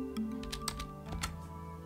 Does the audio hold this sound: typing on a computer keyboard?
yes